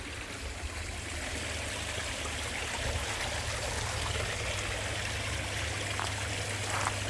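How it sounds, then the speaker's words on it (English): Water spills steadily over the top of a pond filter, a continuous broadband trickling and splashing rush with a low pump-like hum underneath, close and even throughout with no talking. "That is really pulling a fair lot of water over the top of that."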